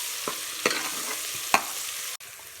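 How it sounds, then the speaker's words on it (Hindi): Chopped ginger, garlic and chilli frying in a pan for curry pakora, a steady close sizzle broken by a few sharp scrapes and clinks of a stirring spoon, with no voices. "तो इसको करेंगे अच्छे से फ्राई, अदरक लहसुन को भी और मिर्ची को भी"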